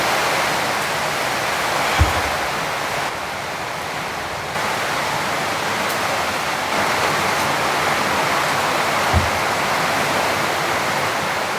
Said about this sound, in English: That's a lot of rain. It's been going non-stop.